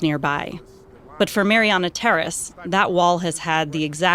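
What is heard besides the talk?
No everyday noise stands out behind the speech.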